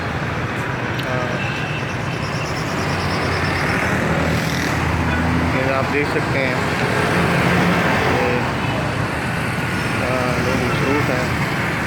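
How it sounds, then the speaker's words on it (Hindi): Heavy road traffic in a busy market during Ramadan, a constant dense roar of cars and other vehicles with occasional horn-like tones, loud throughout, while someone talks over it. "ट्रैफिक है बहुत ज़्यादा।"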